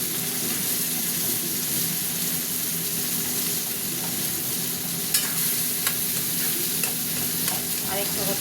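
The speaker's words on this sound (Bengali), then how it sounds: "সিদ্ধ করে রেখেছিলাম টমেটোটা এখানে গড়িয়ে দেবো, একটু ঘেটে দেবো আর কি।" Boiled tomatoes are stirred into fried prawns in a hot pan, giving a steady, close sizzle that runs throughout, with light clicks and scrapes of the spoon toward the end and no voices.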